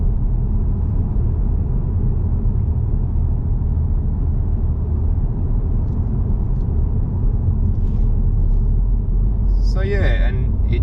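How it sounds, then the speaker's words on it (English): A 2020 Ford Mustang 2.3 EcoBoost with a 10-speed gearbox cruises at 60, filling the cabin with a steady, even low rumble of road and engine noise that holds constant throughout. "As you can hear, not a huge amount of road noise."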